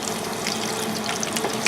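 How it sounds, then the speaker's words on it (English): Flour-dredged redfish collars fry in hot oil in a fryer, a dense steady sizzle and bubbling up close, continuous throughout with a slight clatter near the end. "get them right here straight in the fryer. Give a little toss so the fins themselves get submerged under the oil."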